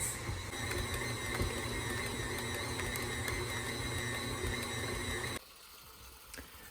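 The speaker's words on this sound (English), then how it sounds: "So I have it on medium speed. And we're going to let it mix for 6 to 8 minutes." A stand mixer kneading wet sourdough for hamburger rolls at medium speed, a steady whirring motor drone with rhythmic mechanical ticking, running evenly before cutting off abruptly near the end.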